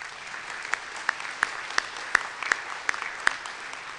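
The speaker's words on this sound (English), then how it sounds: "I think that deserves a round of applause." At a faculty awards ceremony, sparse, evenly spaced claps ring out in a slow steady rhythm, about nine sharp hand claps over a quiet room.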